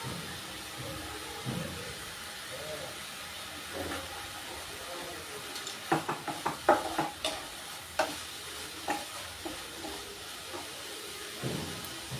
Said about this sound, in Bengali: আমার এইখানে কড়াইতে দুধটা ফুটতে শুরু করেছে অল্প অল্প